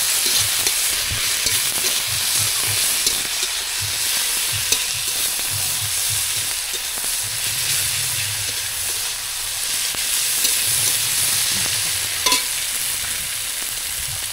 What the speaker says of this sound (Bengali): আদা বাটাটা ভেজে নিলাম।